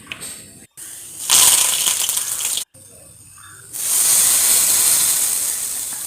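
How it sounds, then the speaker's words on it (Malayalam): Mustard seed tempering is poured into a hot curry, bursting into a strong hissing sizzle, then a second longer hiss that settles into a steady sputter, with brief quiet handling noises between. "ഇനി ഇതിലേക്ക് നമുക്ക് കടുക് താളിച്ച് ഒഴിക്കാം."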